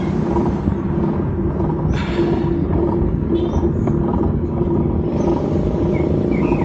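A vehicle passes on a steep mountain road in Bataan, a continuous low rumble that swells and fades slightly, close and loud, with no talk.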